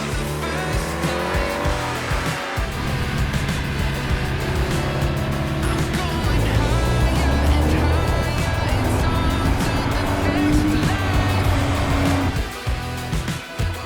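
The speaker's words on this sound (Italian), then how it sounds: "Passano gli anni, ma questo motore continua ad essere incredibile." A 2024 BMW R 12 nineT with an air/oil-cooled boxer engine pulls hard on the road, its revs climbing and dropping through the gears. The engine sound is loud and close, with wind rush around it.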